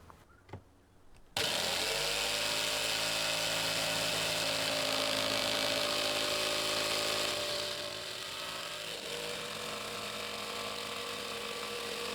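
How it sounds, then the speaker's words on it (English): A jigsaw cutting through wood starts abruptly and runs as a loud, continuous buzzing rasp with a steady motor hum, easing slightly in pitch and level partway through, with a couple of small knocks beforehand. "My jigsaw blade tends to wander a bit from the grain"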